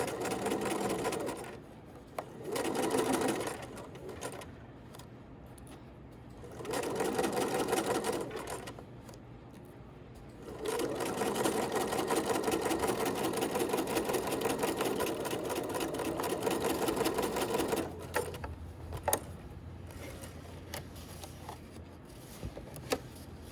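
Sewing machine stitching a tote bag seam, several bursts of rapid mechanical whirring separated by short quiet pauses, then a long continuous run near the end, close and clear.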